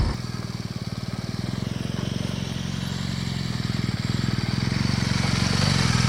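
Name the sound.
off-road motorbike engine during slalom training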